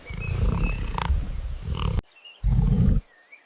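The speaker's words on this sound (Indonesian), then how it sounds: "Dentum suara rimba menyatu dengan raungan sang penguasa loreng." A deep, rumbling tiger roar fills the first two seconds, then a second shorter roar follows after a brief pause, with faint birdsong in the background.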